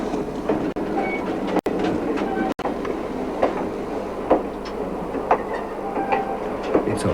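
A passenger train on a long run through the Canadian wilderness, where it halts at a one-house settlement only on request, rolls along with a steady broadband rumble and scattered clicks and knocks from the rail car, with no voices.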